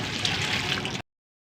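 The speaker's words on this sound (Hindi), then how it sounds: "तो बिस्मिल्लाह पढ़कर पानी दे लेंगे।" Water poured onto a freshly transplanted agave in a small pot, a close steady splashing gush lasting about a second before stopping abruptly into silence.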